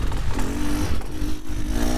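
A Beta 2024 Xtrainer 300 two-stroke dirt bike engine revs low and steady on a trail hill climb, close and continuous with slight rises in pitch.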